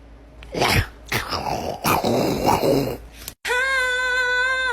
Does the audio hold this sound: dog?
yes